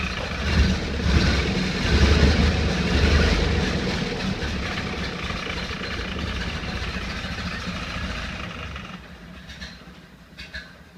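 A 1931 Ford Model A engine with a sticking throttle runs close by in a steady low rumble that is louder at first, then settles to a quieter idle with a few light clicks near the end.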